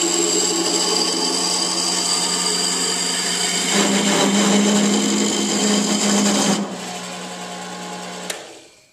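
A steady whirring wood lathe spins with a tool scraping and cutting the inside of a segmented wooden vase, a rougher grinding stretch midway, then the motor winds down and stops.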